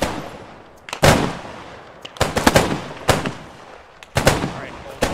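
Rifle volleys and gunfire in the war game Operation Pericles, sharp loud cracks arriving in uneven clusters of several shots with short quiet gaps between them.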